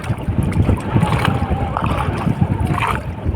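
A small wooden bangka is paddled on choppy water in strong wind, with steady wind rumble, splashes and lapping waves throughout, and a voice talking over it.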